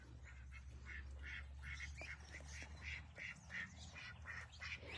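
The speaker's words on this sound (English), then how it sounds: "Well, Sebastian, you are one beautiful duck." A duck quacks repeatedly in quick, irregular bursts, close and clear, over a steady low background rumble.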